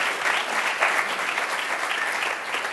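Steady applause from a crowd, many hands clapping continuously at an even level with no voices standing out.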